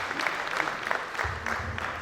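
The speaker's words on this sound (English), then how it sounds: "Please a round of applause for Princess Kapila." Attendees at a village meeting applaud for Princess Kapila, a brief, fairly faint patter of clapping hands with a low murmur of voices beneath.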